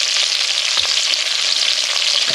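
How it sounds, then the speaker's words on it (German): Sucuk sausage fries steadily in a Dutch oven, giving a continuous close, loud sizzle and crackle with occasional soft stirring knocks and no voices. "wenn wir das hier anbraten"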